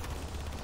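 Rapid gunfire from a weapon in Rainbow Six Siege, a dense continuous burst of shots lasting under a second at steady loudness, with no talking.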